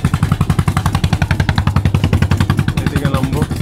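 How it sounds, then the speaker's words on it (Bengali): A fishing boat's engine chugs past near a sea beach, a loud, steady rapid thumping pulse running throughout with a voice talking faintly over it. "এখানে একটা মাছ ধরার বোট যাচ্ছে"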